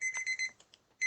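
Kitchen timer alarm ringing in short repeated bursts of shrill electronic beeping, a brief pause with faint rustle, then the beeping resumes loudly, close by with no talking.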